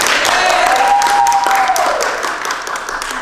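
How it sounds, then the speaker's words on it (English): Applause at a ceremony in Paterson honoring a West Point graduate: a steady wash of crowd clapping that stays dense and loud, then eases slightly toward the end, with a thin whistle-like tone riding over it. "Another round of applause. Fuerte aplauso."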